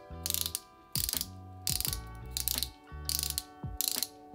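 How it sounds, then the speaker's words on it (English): Twisting the base of a Maybelline Instant Age Rewind airless pump concealer tube gives a series of close, crisp ratcheting clicks in short repeated bursts with brief pauses between them. "So as you twist it like so, it pushes a little platform down the tube here."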